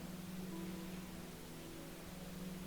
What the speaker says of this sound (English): The pink noise you're hearing is literally helping your brain organize itself into a more coherent